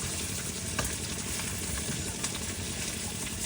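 Whole crabs fry in hot oil with a loud, dense sizzle and crackle, close up and continuous, punctuated by light scraping stirs.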